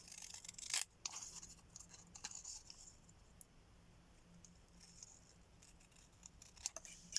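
Scissors cutting out small paper pieces for a craft tag, with faint close snips and rustling that cluster in short bursts near the start and end, quiet between, no talking.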